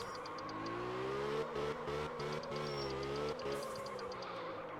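Car engine in the video game Absolute Drift revving hard during handbrake burnout spins, a loud, steady high-pitched drone with brief dips and pitch wobbles as the throttle changes, with no talking.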